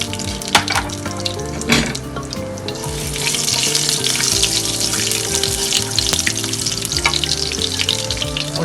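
Mustard seeds crackle and sizzle in hot cooking oil while Tamil-style kollu sundal is prepared, the frying hiss growing louder and denser after the first few seconds over a steady tonal background.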